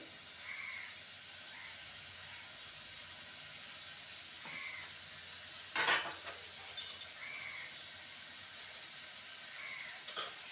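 Chili powder, turmeric and salt fry and get stirred in a pan for a spicy masala potato dish, a soft, steady sizzle with occasional spatula scrapes and one sharper clank of utensil on metal.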